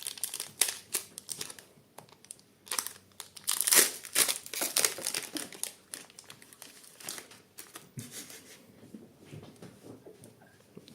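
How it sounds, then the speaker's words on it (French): A Pokémon card booster pack from the Fable Nébuleuse set is torn open by hand. Close, crisp crinkling and tearing of the foil wrapper comes in irregular bursts, with quieter rustling between them. "Et on va tout de suite ouvrir le second booster."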